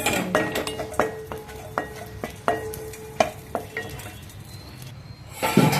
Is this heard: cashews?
yes